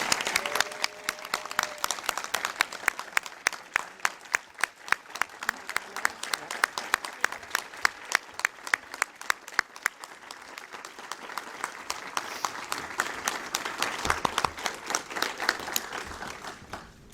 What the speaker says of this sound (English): one more round of applause for all of our graduates